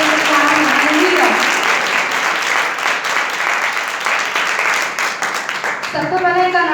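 A church congregation claps loudly at a Sunday service, a dense, sustained round of applause that fades slightly before a preacher's voice returns, with speech heard at the start and end.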